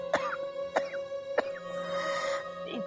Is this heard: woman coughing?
yes